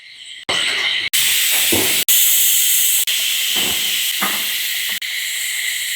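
Pressure cooker steam release in a home kitchen while cooking beef with tapioca, a loud continuous hissing jet of steam running nearly throughout, broken by a few brief gaps and shifts in strength.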